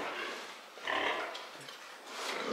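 A sow in a pen climbing onto a feeding trough, with low grunts and oinks plus shuffling and scraping movement nearby, fairly faint.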